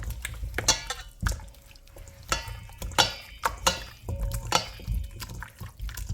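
Chicken wing marinade is mixed by hand in a bowl, giving wet squelching, slapping and dripping sounds in an uneven rhythm, up close and moderately loud.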